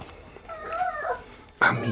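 A dog whimpers in a home kitchen, a close, thin, wavering whine lasting about a second, followed by a louder yelp-like burst at the end.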